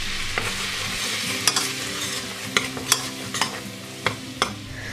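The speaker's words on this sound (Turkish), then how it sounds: "tenceremize 1 yemek kaşığı tereyağını koyalım ve eritelim." Butter melting in a cooking pot at the start of a lentil soup, giving a soft steady sizzle with a few sharp clinks of a utensil against the pot, close and alone.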